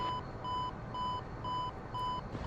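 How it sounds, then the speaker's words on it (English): Repeating alarm beeps from the ground collision or altitude warning in a DCS F-14 Tomcat flight simulation during a fast landing approach, five evenly spaced tones about half a second apart over a steady engine rumble. "That beeping is the ground collision alarm"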